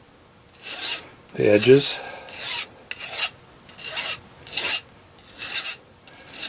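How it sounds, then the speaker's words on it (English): Metal file rasping burrs off the edges of an aluminium quarter-wave VHF/UHF antenna element, eight or so rhythmic strokes in steady succession with brief pauses as the piece is rotated; a voice briefly speaks over one stroke. "I'm rotating this as I'm filing it."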